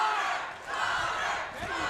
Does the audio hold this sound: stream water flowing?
no